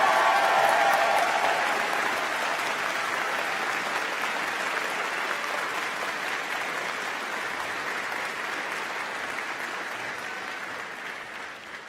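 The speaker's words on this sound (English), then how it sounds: "Let's give all of these students a round of applause." Sustained applause from a crowd at a university College of Natural Sciences commencement ceremony for graduating students, a dense, even wash of clapping that slowly fades over about twelve seconds with no voices.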